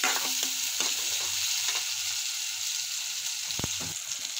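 Tomatoes cook in a hot pan with a gentle, continuous sizzle, punctuated by a few sharp knocks and scrapes of a spoon stirring, close by and without speech.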